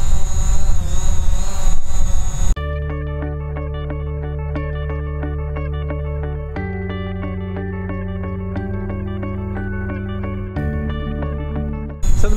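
A DJI Mavic Pro drone flies in cold weather after a firmware update. It gives a steady, close, tonal motor whine whose pitch steps up and down a few times, following a brief burst of rougher noise.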